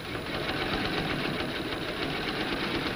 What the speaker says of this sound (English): she top stitches close to the seam line through the bodice and the pressed up seam